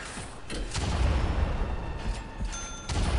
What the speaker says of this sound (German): Das war gerade Schüsse, die kamen.